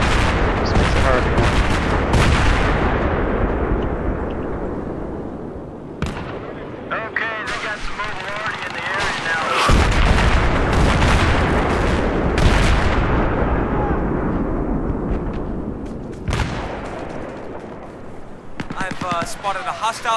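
Gunfire in Battlefield 3 multiplayer: dense bursts of rifle and heavy weapon shots, booming explosions and rapid volleys fill the soundscape, loud and continuous, with a player's voice talking over the combat.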